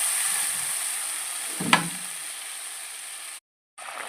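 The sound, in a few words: water added to sizzling egg curry in pan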